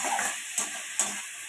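Drumstick flowers frying with chicken in a pan make a close hiss, broken by two sharp stirring scrapes in quick succession.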